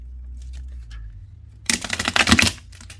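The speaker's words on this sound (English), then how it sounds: "Give it a good shuffle." A deck of tarot cards is shuffled by hand in a single brisk, crisp riffling burst of under a second. Quiet comes before it.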